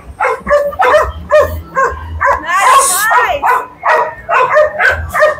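Dogs bark and yip repeatedly at a pet market amid steady nearby chatter, with a brief whimpering whine in the middle, close and lively.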